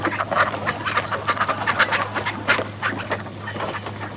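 A group of ducks quacks in quick, overlapping bursts, loud and close, with constant honking calls filling the whole stretch and no voices over them.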